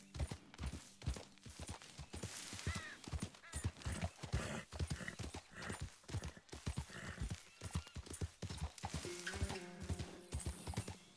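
A horse trots in the Red Dead Redemption 2 video game, its clip-clop hooves beating a steady, close rhythm for the whole stretch, with a brief whinny-like tone near the end.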